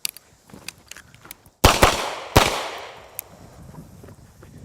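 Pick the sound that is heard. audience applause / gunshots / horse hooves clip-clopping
gunshots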